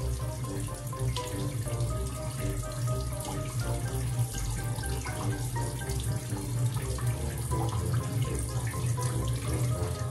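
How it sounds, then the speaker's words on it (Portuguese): A bathroom tap runs steadily for a face wash, producing a continuous loud, even rush of water with no pauses and no talking. "Agora a gente tem que passar água no rosto."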